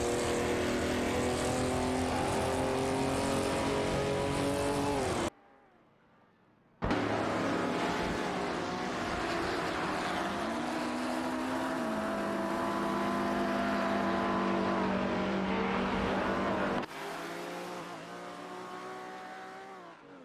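Race car engines roar continuously in a racing video game, with cars including a Shelby GT and a Ferrari 250 GTO, loud sustained revving tones shifting pitch, a brief drop to near silence partway, then the engine drone resumes to the end.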